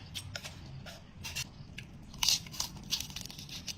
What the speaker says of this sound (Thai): อืมผักสลัดก็กรอบ